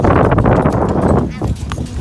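Horse hooves clip-clopping close by on a farm, loud and steady, with a person talking over the hoofbeats.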